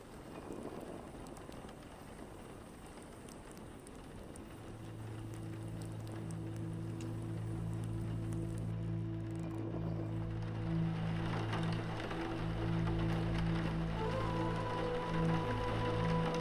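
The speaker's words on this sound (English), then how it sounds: "It is still raining." Steady rain patters continuously in the video game Vintage Story, a soft broadband hiss that thickens over time, with a low engine-like hum joining partway through. No voices.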